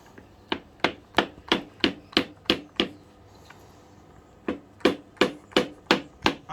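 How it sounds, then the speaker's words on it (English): A rubber hammer taps in a quick, even rhythm on a Honda motorcycle, about nine blows, then a short pause, then six more taps at the same pace, close and crisp. "I think we may need a rubber hammer just to give it a quiet tap"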